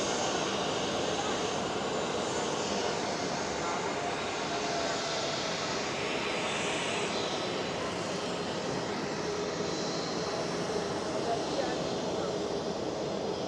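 Jet engines of an Airbus A320neo airliner at Amsterdam Schiphol, a steady broadband roar that swells and holds close by for the whole stretch, with faint voices murmuring underneath.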